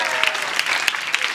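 Brief burst of audience applause from a French TV studio crowd, dense clapping with a few sharper claps standing out, steady and fairly close for about a second.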